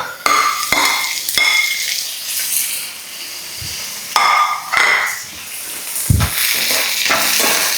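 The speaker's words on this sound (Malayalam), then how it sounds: "തക്കാളി ഇട്ടിട്ട് ഇതൊന്ന് വഴണ്ട് വരണം." Tomatoes sautéing in a pan for fish curry, with repeated metal spoon scrapes and knocks against the pan over a soft, continuous sizzle, close and fairly loud.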